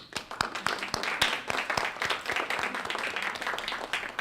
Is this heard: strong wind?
no